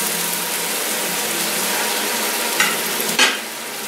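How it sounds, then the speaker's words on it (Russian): Carrots fry in oil for plov, a steady loud sizzle filling the whole stretch, broken by a couple of brief scraping stirs near the end, with no talking. "Когда морковь у вас жарится, он пожарен, он уже вялый такой становится."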